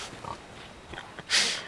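A pig in the pirate game Sea of Thieves gives faint, brief grunts and snorts under soft ambient game noise, ending with a bright hiss-like burst.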